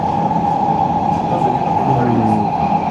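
Subway ride home on a metro train, a steady rumble and hum of the moving carriage with a tonal whine, continuous throughout, with a voice talking over it.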